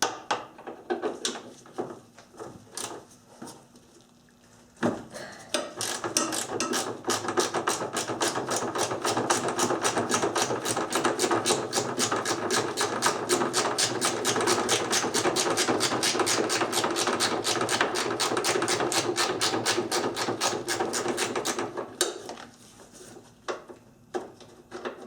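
A ratchet with a quarter-inch deep well socket and extension works on a 1994-1997 Honda Accord during ABS modulator replacement, giving a long, fast run of rapid clicking that lasts around seventeen seconds, close and steady, with scattered clicks before and after.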